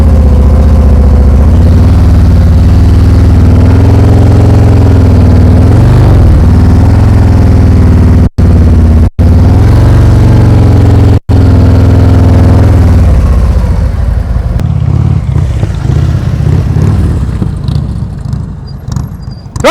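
Motorcycle engine at low throttle during slow U-turns in a practice session, a loud, steady low rumble with slight rises and dips in pitch, easing off and fading toward the end.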